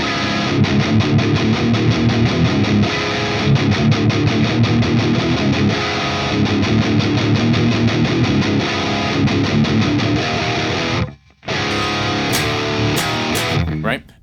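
An opening riff played on a distorted electric guitar in drop D, heavy chugging low notes and chords running steadily and loud, cutting out briefly near the end before a few final stabs.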